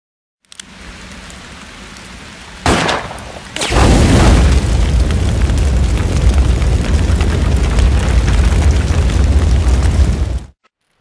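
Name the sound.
gunshot and fire explosion in Forbidden Siren video game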